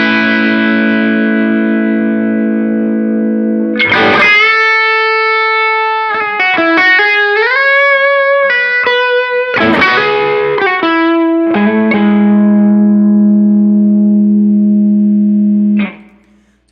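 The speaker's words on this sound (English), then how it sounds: "Now all together, the compressor and the overdrive, you'll hear what I'm talking about." Electric guitar run through a compressor in front of an MXR Timmy overdrive pedal, loud and continuous, with sustained chords and single-note phrases ringing out with smooth attack and lightly driven tone, no talking.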